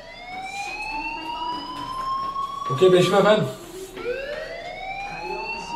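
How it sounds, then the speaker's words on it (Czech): A school fire alarm in the video game Life is Strange wails steadily with rising and falling siren-like tones throughout, while a person talks briefly over it. "Hey, do you hear that fire alarm? That means you should be outside."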